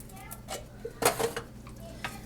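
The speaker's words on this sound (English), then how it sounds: "Get this stirred in just so it's not all on top." A spoon stirs spices into deer chili with red kidney beans in a pot, giving a few soft scraping and clinking strokes against the pot at close range, fairly quiet.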